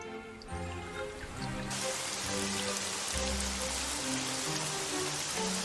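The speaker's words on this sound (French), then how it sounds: "Quel déluge!" A heavy rain downpour hisses loudly and continuously, a dense wash of drops on surfaces that swells after a quieter opening, with soft tonal music underneath.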